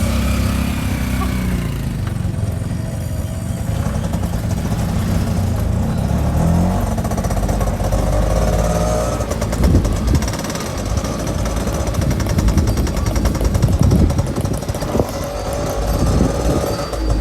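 An auto rickshaw runs off-road on a rough, broken track, its small engine droning loud and steady while the body rattles and jolts continuously, close up with no talking.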